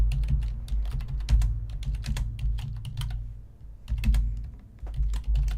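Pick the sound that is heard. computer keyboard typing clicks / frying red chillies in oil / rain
computer keyboard typing clicks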